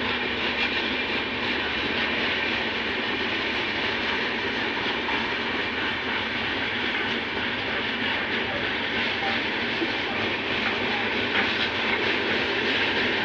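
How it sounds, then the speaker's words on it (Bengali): A departing train rolls steadily along a railway track in West Bengal, a continuous loud rumble and wheel noise holding even for the whole stretch with no talk. "ওই হচ্ছে ট্রেনটা এখন ছেড়ে দিয়েছে"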